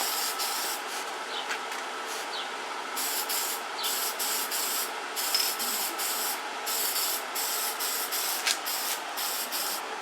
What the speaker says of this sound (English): I'm going to copper spray all over the Cummins